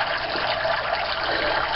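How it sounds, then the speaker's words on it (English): Turtle tank canister filter spout returning water into the tank, a steady bright rushing trickle that runs continuously at close range with no talk. "spout that releases the water back into the tank"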